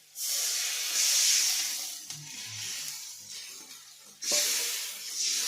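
Water from ground spice paste is poured into masala frying in a pan for a Bengali fish curry, and it sets off a loud, steady hiss of steam. The hiss fades a little, then surges again when more liquid goes in, with faint clinks underneath.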